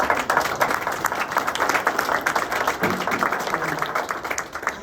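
Sustained audience applause at a press conference launching a community fund, a steady crowd of clapping hands with a few faint voices mixed in.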